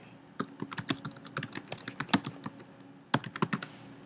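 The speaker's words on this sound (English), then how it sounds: "Here I will type in" Typing on a computer keyboard, a quick irregular run of crisp, close key clicks with a brief pause before a final burst of keystrokes, with no voices.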